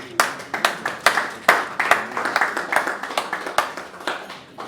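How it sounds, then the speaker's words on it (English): Scattered hand clapping from a modest crowd at an end-of-year party, a steady run of distinct, fairly close claps with no talking over it. "A round of applause please for all of you."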